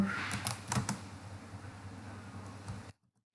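HTML code is typed on a computer keyboard, a quiet, uneven patter of close key clicks with a couple of sharper taps, ending abruptly in silence.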